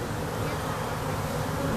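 Bees buzz densely and continuously around an opened beehive during a hive inspection, a close, loud, unbroken drone with no talking.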